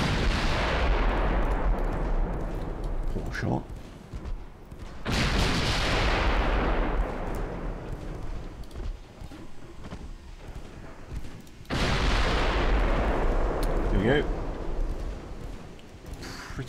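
Heavy battleship gunfire from a Bismarck versus Littorio naval battle in Ultimate Admiral Dreadnoughts: three loud, booming salvos, each striking suddenly and rolling off into a long rumbling decay, with no talk over them.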